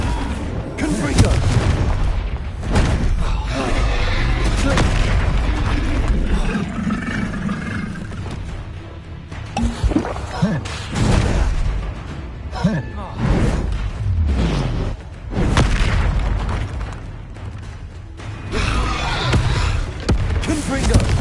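Repeated Confringo blasting-spell explosions in the Hogwarts Legacy video game on PS5, booming hits recurring throughout amid continuous battle noise and rumble, with a voice calling out spell names over the action.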